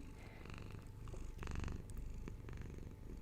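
A cat purrs close up in a rough, rhythmic rumble, swelling and easing with each breath, with no talking.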